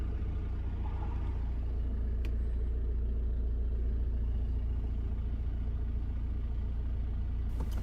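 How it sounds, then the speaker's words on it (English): The engine of a 2017 VW Passat runs at a steady idle after starting, a low continuous rumble heard from close by, with a couple of faint clicks and no voices. "Turn on the small unit again and press the car start button. The engine starts immediately."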